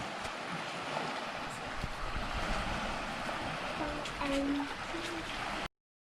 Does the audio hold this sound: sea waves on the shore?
yes